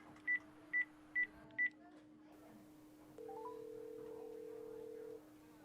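Four short, evenly spaced keypad tones as a telephone number is dialed, followed by a steady ringback tone before a call is answered; clear and close with no talk.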